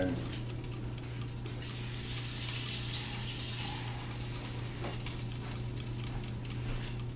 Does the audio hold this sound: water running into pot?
yes